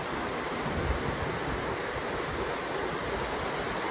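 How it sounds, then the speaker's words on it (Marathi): Rain pours down in a dense, steady roar of broadband hiss, continuous and fairly loud with no voices. "चल तू वरती पाऊस आलाय"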